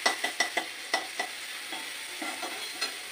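Fried marinated chicken pieces sizzle in a pan for chicken tikka masala while a utensil scrapes and stirs in quick repeated strokes over a soft hiss, close and with no voices.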